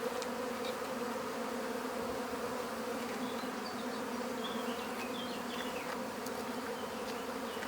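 A honeybee swarm buzzes as it is put into hives. The dense, steady hum of many bees continues without a break, with individual bees whining past close to the microphone.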